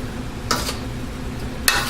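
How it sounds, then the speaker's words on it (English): Teriyaki sauce and sugar cook in a frying pan under a low, constant sizzle, with two short, sharp bursts of stirring scrapes close by. "And mix it up, fry it up, mix it up,"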